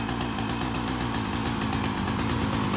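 A Makita chainsaw engine revs hard and steadily, loud and close, in a continuous throaty buzz with a rapid pulsing rhythm throughout.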